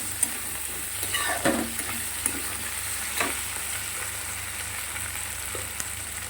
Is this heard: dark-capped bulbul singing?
no